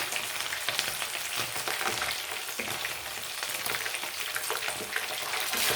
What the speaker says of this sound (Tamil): மீன் நல்லா பொரிச்சு நான் திருப்பி போடுறேன்.